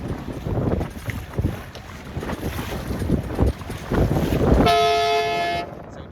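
Wind rushes over a C420 or 29er racing dinghy during a sailing regatta, a steady blustery roar with rising gusts, joined near the end by a brief high whistling tone.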